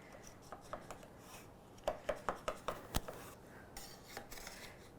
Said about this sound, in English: you do need a little tool, an offset spatula, a butter knife to cut around the cake to loosen it